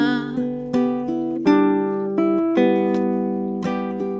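Fingerpicked guitar plays an echoed melody fill as a steady run of plucked notes, each attack sharp and its ring cut short before the next, close and alone with no talking.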